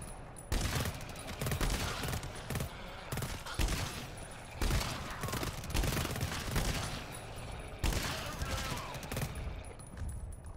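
Burst sentry turrets in the video game GTFO fire in dense, sustained rapid bursts, loud and close, with brief gaps between volleys over about ten seconds.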